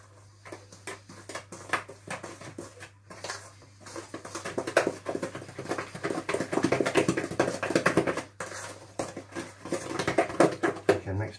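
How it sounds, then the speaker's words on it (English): Cupcake batter stirred with flour in a bowl for orange cupcakes, a busy run of clinks, scrapes and taps from utensil against bowl that builds steadily and continues throughout. "Okay, mix it in."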